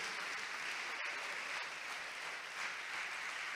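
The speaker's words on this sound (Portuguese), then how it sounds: "Você pode aplaudir mais ao Senhor Jesus?" Church congregation applauding during a sermon, a steady, dense wash of clapping that fills the whole stretch without a break.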